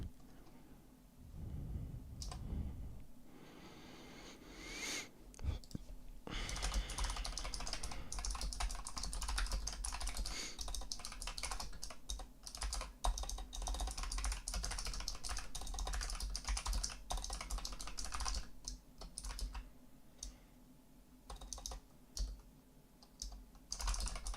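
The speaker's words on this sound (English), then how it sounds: "I'm just typing there" Fingers type on a computer keyboard in quick, irregular bursts of clicks and clacks, close to the microphone but quiet overall, running for over twenty seconds.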